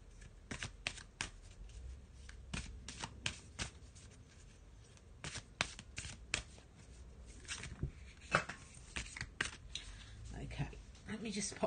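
A Mystic Shaman tarot deck is shuffled by hand in a steady run of crisp riffling card clicks and slaps, close and moderately loud, with faint talk in the background.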